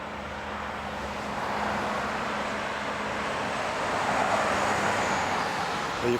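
Road traffic on the Port Mann Bridge in British Columbia, Canada, a steady broadband roar of passing cars and trucks with a low hum beneath it, slowly growing louder, with no voices.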